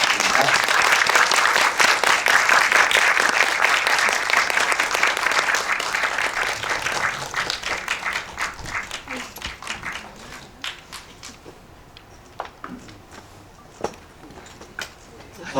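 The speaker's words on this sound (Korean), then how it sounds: "뜨거운 박수 부탁드립니다." A film audience greets the director and cast at a premiere-day talk event with loud, dense applause that thins over about fifteen seconds into scattered, sparse claps.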